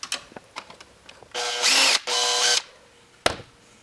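A power drill works on the motor screws of a Gene Cafe CBR-101 coffee roaster: light clicks and handling, then two loud, close whirring bursts of about half a second each, and a final sharp clack.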